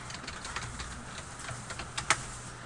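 Quiet keystrokes tap on a computer keyboard in an irregular run of soft clicks, ending with one sharper key press.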